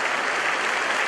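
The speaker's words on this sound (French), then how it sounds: "Un applaudissement pour les frères et sœurs de Rancagua" A church congregation applauds during a Bible study gathering, with a dense, steady wash of many hands clapping at close range for a brief moment.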